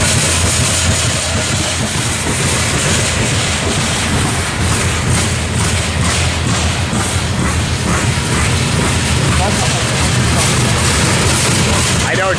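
A grain freight train rolling past at Tehachapi, a loud continuous rumble with rhythmic clickety-clack of wheels over rail joints and metallic rattling of cars, sustained and close throughout.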